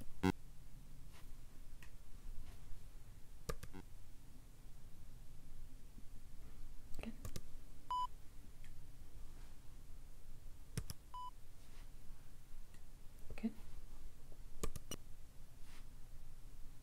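Pure electronic test tones from a hearing exam, high-pitched beeps set at frequencies hard for some ages to hear, sounding as a few brief, faint, widely spaced beeps over quiet room noise and soft clicks, with no talking.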